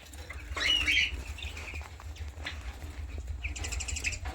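Budgerigars in their room at a bird farm give faint, scattered high chirps and twitters in short bursts over a low steady background hum, with no one speaking.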